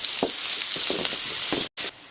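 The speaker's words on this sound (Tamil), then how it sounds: "அது வரைக்கும் வெங்காயத்தை நல்லா வதக்கிக்கலாம்." Onions sizzle and fry steadily in hot ghee for an egg gravy, with a few soft stirring scrapes, then a brief cut to silence near the end.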